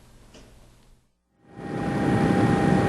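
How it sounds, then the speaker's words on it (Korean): A KBS news helicopter in flight over snow-hit areas drones as a steady, building engine and rotor roar after a brief silent gap, growing louder and holding strong to the end. "KBS 헬기를 타고 피해 지역 취재했습니다"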